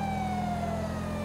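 A police car siren in a driving video game, a steady loud electronic wail holding a slowly falling tone, close and continuous, alone without talk.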